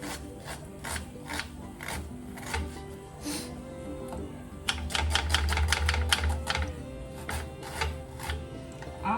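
Green chillies, garlic cloves and small onions chopped with a knife on a board for laal saag, a series of crisp, irregular taps with a faster, louder run of strokes in the middle.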